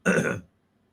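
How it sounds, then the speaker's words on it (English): A single short, rough throat clearing, close and fairly loud, followed by silence. "Maybe he should clear his throat"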